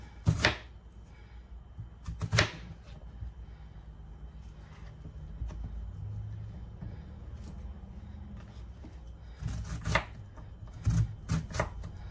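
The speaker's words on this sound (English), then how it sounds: "And I'm going to dice up part of this onion." A knife dices an onion on a cutting board in a home kitchen, giving scattered sharp chops with quiet stretches between them over steady low background noise.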